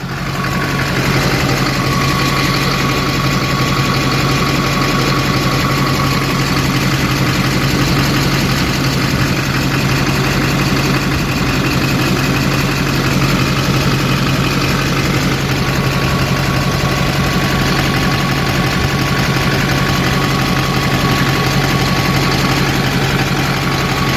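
A loud, continuous low rumble of an LBZ Duramax diesel truck engine idling steadily throughout, with a constant drone and no voices or changes in pace.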